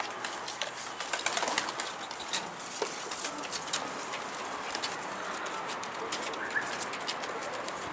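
A pigeon flies overhead outdoors, with soft fluttering wingbeats and faint cooing over a steady hiss of background ambience, moderately distant.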